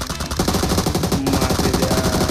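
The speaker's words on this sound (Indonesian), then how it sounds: "Tembak, Neil." Rapid automatic gunfire in the mobile battle royale game PUBG Mobile, a dense, continuous burst of close, loud shots in a fast rhythm lasting a couple of seconds.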